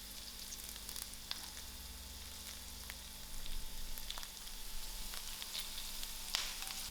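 Thyme and curry leaves sizzling in hot oil for a prawn biryani, a steady close crackle with sharp pops scattered throughout, rising slightly as the leaves fry.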